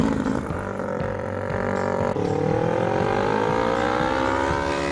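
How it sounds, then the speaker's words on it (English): A go-kart powered by a Kawasaki Ninja 250 engine drives across a front yard. The engine revs steadily and loudly and its pitch climbs through the gears, close and continuous. "I'm off and running on the very first drive of the KawaBunga under its own power."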